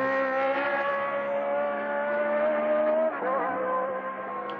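A 1979 Austrian Grand Prix Formula 1 car, Alan Jones's Williams, screams past at high revs, its engine note held steady and then dropping sharply as it passes and pulls away.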